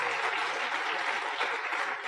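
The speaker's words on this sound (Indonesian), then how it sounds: "Tepuk tangan buat Tiansi Bapak Ibu." Dense, continuous audience applause fills a motivational seminar hall for a couple of seconds, steady and fairly loud with no voices over it.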